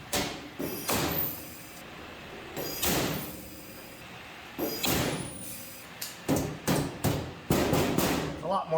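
Hand rivet tool setting rivets while a rollpan is fitted to a Mercury M47 rat truck, giving a series of sharp metallic clunks and thuds at irregular intervals, fairly close and moderately loud, with bursts of rapid snaps toward the end.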